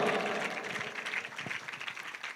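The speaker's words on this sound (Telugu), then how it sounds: "నమ్మిన వారి బిగ్గరగా గట్టిగా చప్పట్లు దేవునికి స్తోత్రం చెల్లించుదా" A church congregation at a Telugu-language worship service in Chennai claps loudly and steadily in praise, a dense, continuous wash of applause with no pauses.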